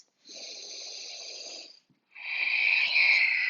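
Deep breaths in a yoga forward fold, two long, close breaths with a brief pause between them, the second stronger and raspier.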